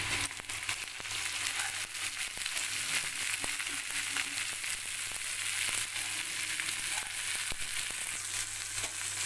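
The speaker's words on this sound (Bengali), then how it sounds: "এবারে এটা আমি ফ্রাই করব।" Capsicum, beans, carrot and spring onion fry for fried rice in a steady, loud sizzle. It runs unbroken and close, with faint scraping from stirring.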